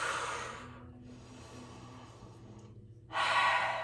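A slow, soft inhale during a yoga vinyasa flow, heard as quiet airy breathing that swells and fades, followed by a louder breath near the end.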